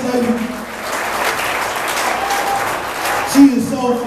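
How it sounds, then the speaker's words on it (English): Audience at a Denver comedy improv club claps steadily throughout, a dense, even wash of applause filling the room. "So I want y'all to start clapping right now."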